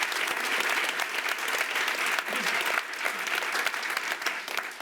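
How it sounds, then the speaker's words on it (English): Steady, dense audience applause for the cast at a live panel event in Los Angeles, loud and continuous throughout, with a faint crowd murmur underneath. "Round of applause for the cast."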